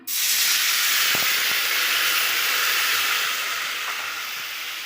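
A loud, sudden hiss of plain water hitting a hot pan of fried lentil dumplings, holding steady as a broad sizzle and slowly easing off.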